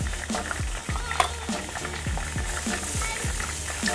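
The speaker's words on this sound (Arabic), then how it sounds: "كنا عم ندبل البصلة مع الثوم" Onion and garlic fry in a pan, giving a steady close-up sizzle with repeated stirring scrapes and light utensil knocks, and no speech.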